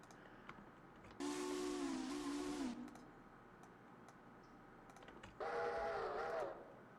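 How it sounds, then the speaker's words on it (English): Steam locomotive whistle in a Smoky Mountain Railway video game, a G25 engine, sounding two separate chime-like blasts, the first about a second and a half long and the second slightly shorter, loud over a quiet background. "Let's choose a good whistle for this thing."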